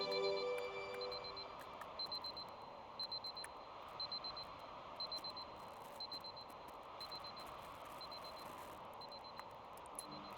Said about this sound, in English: We slept through our alarm again.